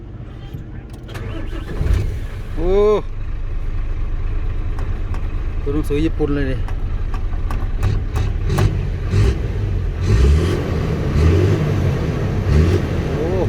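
An Isuzu 6HK1 diesel engine in a dump truck starts and revs up and down under nearby talking voices, with a low rumbling idle throughout.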